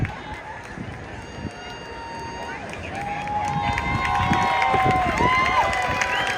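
A Disneyland crowd cheers after a marriage proposal, a broad swell of voices and whoops rising in the second half over nearby talk and background bustle.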